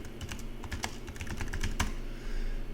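Quick bursts of keystrokes clack on a computer keyboard in a quiet room, a close, uneven run of taps with short pauses.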